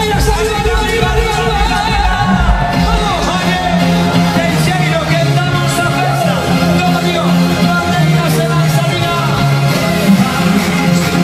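At an outdoor village fiesta concert with an orchestra, a loud crowd shouts and cheers steadily throughout, a dense roar of voices mixed with the band's music.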